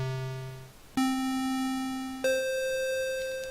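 An NES 2A03 chip square wave at 50% duty cycle plays three sustained chiptune notes in sequence, each a hollow, buzzy tone, fairly quiet with no talking over them.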